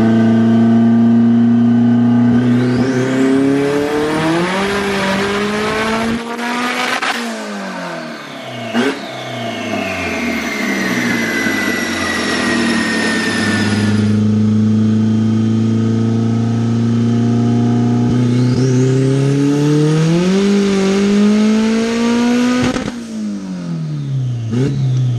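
A Hyundai Sonata on a dynamometer revs hard in a loud, sustained pull from low to high rpm, then drops back and climbs again in a second long run, on low boost, with clattering between the pulls.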